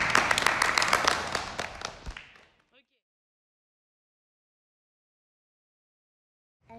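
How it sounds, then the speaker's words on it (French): Audience applause at a stop-motion screening, a burst of many hands clapping that fades out after about two seconds into silence. "vous pouvez vous applaudir"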